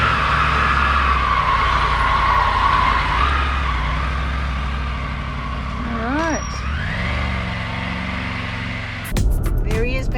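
A motorcycle named Cleo is ridden home toward Toowoomba on a wet day, its engine droning steadily under loud rushing road and wind noise, with a couple of rising rev sweeps midway and a sharp burst of buffeting near the end.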